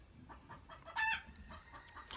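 Chickens on a farm cluck in short, soft bursts, with one louder, higher call rising briefly in the middle over a low rumble of background noise.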